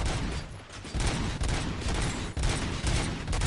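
Dense bursts of rapid gunfire fill a PS5 crime-themed video game scene, loud and continuous with layered shots and booms throughout, no voices.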